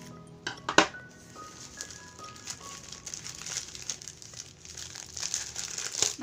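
Plastic wrap around a parcel cushioned with stiff cardboard being cut open, giving steady close crinkling and crackling with a sharp tearing snap near the start, continuing for several seconds without talk.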